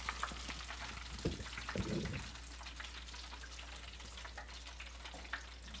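Chicken wings deep frying in oil for a double-fry batch of crispy hot wings, the oil in need of changing: a steady, dense crackling sizzle throughout, with a few louder bubbling bursts near the start, no voices.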